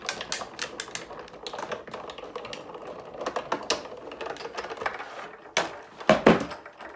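A Sizzix Big Shot die-cutting machine works through paper flower shapes with a run of sharp, irregular clicks and taps close by, with louder clunks near the end.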